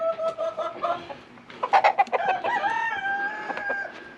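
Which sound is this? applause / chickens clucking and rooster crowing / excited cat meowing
chickens clucking and rooster crowing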